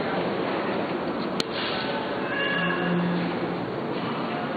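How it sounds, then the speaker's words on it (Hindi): A faint cat meow rises briefly over a steady background hiss, with a single sharp click just before it. "बिल्ली की आवाज भी आई है साथ साथ।"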